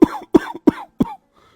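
An old man coughs four times in a steady rhythm, close and fairly loud, each cough a short harsh burst with a brief pause between them, in a cartoon story.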